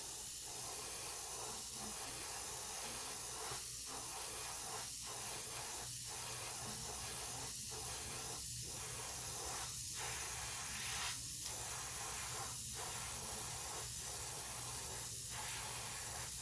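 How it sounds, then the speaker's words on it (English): An airbrush sprays paint in a steady, close hiss across a fishing crankbait being painted in a red craw pattern, with brief regular breaks as the trigger is released, and no voices. "keeping that airbrush at an angle to that bait"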